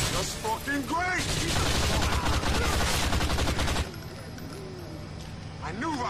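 P90 submachine gun fire in GTA IV, rapid bursts of loud gunfire crackling for a few seconds, followed by quieter game sounds, with someone talking over parts of it.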